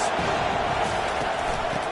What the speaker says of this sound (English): This crowd trying to show them what it's going to be like all day in this house.